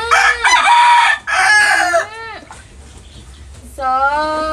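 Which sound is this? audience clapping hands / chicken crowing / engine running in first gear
chicken crowing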